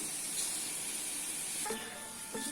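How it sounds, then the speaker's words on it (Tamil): Soaked rice goes into a pot of Madurai-style mutton dum biryani, under a steady close hiss of sizzling and steam. A few soft knocks and stirring sounds come near the end, and no one talks. "இப்போ என்ன பண்ண போறோம்னா ஊற வச்ச அரிசியை சேர்க்க போறோம்"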